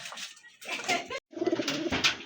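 A pair of pigeons coos close by in two bursts of low, throaty calls separated by a short silence, with no talking over them.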